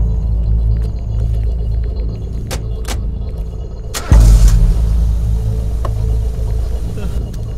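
A car is driven with a steady, close interior rumble. A sudden loud thump lands midway, then the engine noise continues under people talking.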